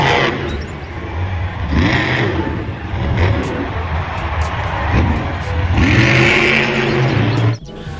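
A toy monster truck gives off a loud, close electronic engine sound, revving and whirring in rising and falling surges with some clatter, before cutting off abruptly near the end.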